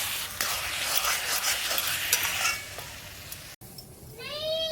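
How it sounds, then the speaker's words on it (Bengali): Dry fruits such as cashews, raisins and almonds fry in ghee in a kadai, giving a dense continuous sizzle that fades after a brief cut, followed by a cat meowing several times nearby. "ড্রাই ফ্রুটসটা একটু ভেজে নেব ঘিতে।"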